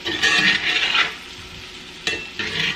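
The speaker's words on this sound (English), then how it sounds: "We're going to add our steak right now." Marinated garlic steak bites sizzle loudly in a hot pan, tossed and stirred in two bursts of frying noise with a brief quieter gap between, close up and no talk.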